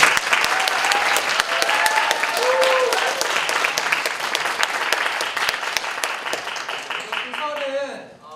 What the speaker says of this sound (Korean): 저희 박수 한번 치고 시작하겠습니다